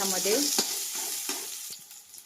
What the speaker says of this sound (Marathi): शिमला मिरची आणि कांदा याच्यामध्ये असं लाल होईपर्यंत मी फ्राय करणार आहे